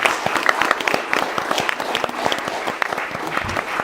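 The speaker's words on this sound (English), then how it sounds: "applause" Live audience applauding podcast guests at the close of a tech event, a dense burst of many hands clapping, loud and continuous, with faint voices mixed in.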